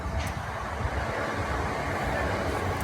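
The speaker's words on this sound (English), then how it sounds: "The train, of course the train, Southeastern." A Southeastern passenger train rumbles past nearby, a steady broadband roar with continuous low-end churn and rail noise holding at an even level throughout, no voices over it.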